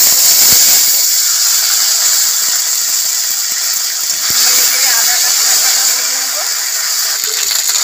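Ginger and green chili paste fries with black cumin in hot oil for a vegetarian eggplant dish. A loud, steady sizzle and hiss fills the pan, with faint clicks and stirring knocks underneath.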